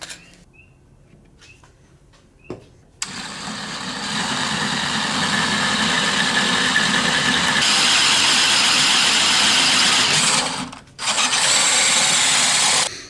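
A power drill whirs up and grinds steadily through material, drilling a 3/8 inch hole on a Chevrolet C1500 truck brake setup, briefly stopping and restarting, after a few quiet clicks and taps.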